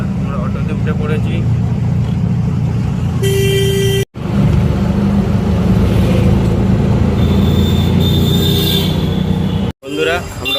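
Auto-rickshaw engine rumbling steadily during a ride through town, with short car horn toots breaking through in bursts over the traffic noise.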